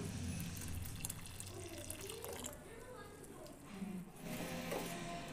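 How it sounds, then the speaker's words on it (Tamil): Boiled milk being poured into a pan: a soft, continuous liquid splash over a few seconds, fairly faint, with a voice speaking at times. "நம்ம காய்ச்சி வச்சுருக்க பால் இருக்கு இல்லையா, அதையும் சேர்த்துடலாம்"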